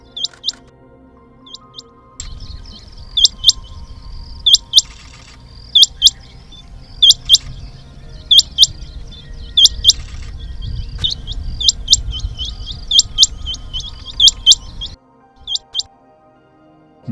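Sharp, high chirping bird calls repeat in quick bursts across a monsoon wildlife setting near Saswad, over a steady low background hum, some calls close and bright, others in rapid clusters.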